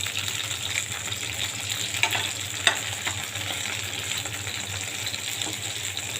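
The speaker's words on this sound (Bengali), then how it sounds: "মাছটা ভাজি করা হয়ে গেছে" Bogni fish frying in a pan, an even, close hiss of hot oil with a couple of sharp pops, no talking.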